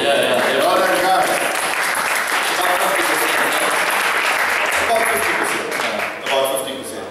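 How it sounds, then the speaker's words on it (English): Sustained audience applause for entrepreneurs at a Startup Grind Durban event, a dense, steady wash of clapping that holds for several seconds before thinning slightly near the end. "I think Jonathan and I need to give you a round of applause"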